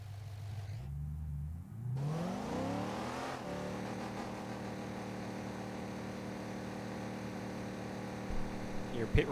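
A super late model race car engine in a racing game, set at Flamboro, revs up in a rising whine and then holds a steady, loud droning note with layered harmonics, with a voice speaking over it.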